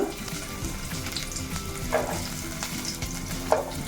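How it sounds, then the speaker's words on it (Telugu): Oil crackles and sizzles steadily in a pan as onion fries, with a couple of brief clinks as something is stirred or dropped in. "గిన్నెలో కొంచెం నూనె వేసానండి ఆయిల్ వేడెక్కుతుంది కొంచెం ఉల్లిపాయ వేస్తాను ఫస్ట్"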